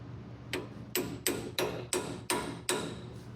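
Seven sharp metallic hammer strikes ring out at a steady, slightly quickening pace as a bolt is driven out of a Ford Expedition's suspension during shock replacement, each blow close and followed by a brief ringing decay.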